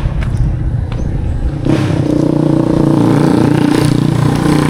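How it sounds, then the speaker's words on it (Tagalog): Motorcycle engine running loud and close beside a cemetery in Alegria, Cebu, a steady rough mid-pitched drone that steps up in intensity after a brief quieter opening, with no talk over it. "Ang ingay ng motor"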